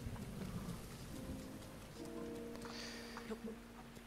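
Steady rain with a low distant thunder rumble during a storm in the video game Zelda Breath of the Wild, a continuous wash of noise at moderate volume with faint tonal game sounds and no talking.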